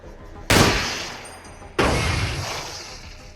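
Two sharp, loud gunshots fired in the video game Receiver 2, the second about 1.3 seconds after the first, each trailing off in a long, fading echo tail against quiet background ambience.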